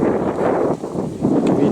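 Strong gusting wind on a snowy January day roars across the microphone in a steady broadband rush, dipping briefly before surging back, loud and close with no other clear sounds.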